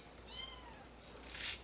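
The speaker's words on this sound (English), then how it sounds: "Maybe you can hear that cat meowing back there" A cat meows faintly in the background of a quiet room where shotgun shells are being hand-loaded, a soft wavering call followed by a brief hiss of noise.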